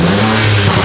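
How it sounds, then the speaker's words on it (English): A BMW 135i with the N54 turbo engine, fitted with bolt-on parts and suffering turbo wastegate rattle, revs in a loud, close, sustained roar lasting under a second, with no talking. "It's got what? Wastegate rattle."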